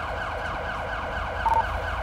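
Police car sirens wail in a GTA roleplay game, a steady loud cycling siren sweep repeating quickly and continuously up close, with no talk over it.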